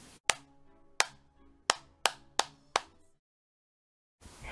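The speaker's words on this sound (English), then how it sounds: "This is the sound of Billy clapping his hands together as he sings his song." Billy the monkey claps his hands six times: sharp, close, slightly uneven smacks, each with a short ring of room echo, followed by a stretch of silence.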